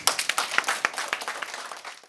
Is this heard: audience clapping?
yes